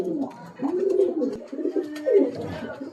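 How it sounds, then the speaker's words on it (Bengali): Female pigeon cooing, one of a line of Kolkata bloodline pigeons for sale, in soft rolling coos repeated over several seconds at close range, with a faint voice mixed in. "এটা হচ্ছে মাদি পায়রাটা"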